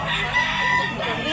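A rooster crows loudly and close by at an open-air chicken market in Tabunok, Talisay, Cebu, one sustained call filling the brief moment.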